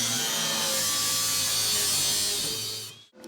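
Steel body panel on a 1957 Chevy being cut with a power tool, a loud, continuous high-pitched grinding whine that holds steady for about three seconds, then drops away sharply.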